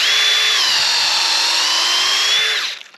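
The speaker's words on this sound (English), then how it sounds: "I think I'll drill in right here." A power drill bores into a maple tree for tapping, whining steadily at high speed for nearly three seconds, close and loud, then winds down and fades.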